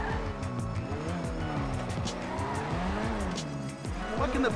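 A sports car in GTA Online revving and driving with tire squeals and skidding sounds, loud and continuous throughout with rising and falling engine pitch.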